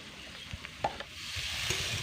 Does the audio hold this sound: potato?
yes